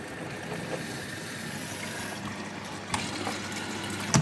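A Hotpoint washing machine fills with water, a steady gushing hiss of inflow running continuously at moderate level, with a couple of brief knocks near the end.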